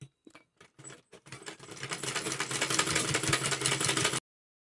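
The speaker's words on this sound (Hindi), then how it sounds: "तो अब हम फिर से इसके ऊपर सिलाई लगाएंगे" A sewing machine stitching pants starts with a few short, separate stitching bursts, then runs in a fast continuous mechanical rattle close by before stopping abruptly, with no talking.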